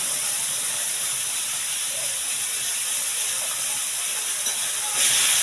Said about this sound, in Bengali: দেখো এবার দেখো দুধটা দিয়ে দিচ্ছি।